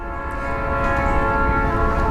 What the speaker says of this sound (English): Sorry for the train whistle.